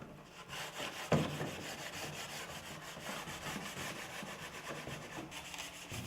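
Hand sanding of a resin-molded fan shroud and shroud ring for a Rotoway radiator, removing excess resin. A quiet, steady back-and-forth rasping rhythm with one sharper knock early on, and no voices.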